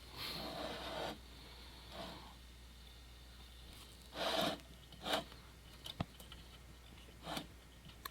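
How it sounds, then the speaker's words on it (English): Scratchy rasping bursts from a tip cleaner being spun inside the generator tip of a Coleman 202 Professional lantern, coming in short irregular strokes with quiet pauses between them, close and fairly faint. "I keep just spinning this tip cleaner until I get some success here"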